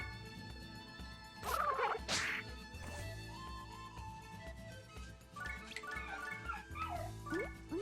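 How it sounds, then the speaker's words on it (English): A dog whimpers and lets out high, thin yips, with a sharp burst of whining near the middle and more wavering whimpers toward the end, set over a quiet game soundtrack. "Alright, I'm gonna let my dog out."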